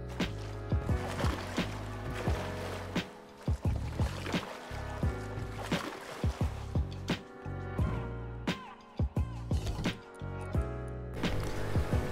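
A boat moves through water at night in the survival video game Rust, with a steady engine drone and rhythmic sloshing and splashes. The sound is loud and close, with no talking.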